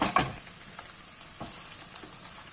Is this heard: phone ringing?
no